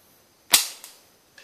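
A slingshot fired outdoors gives a single sharp, loud snap with a quick decaying tail, followed by a fainter second crack and a faint distant tick; no talking.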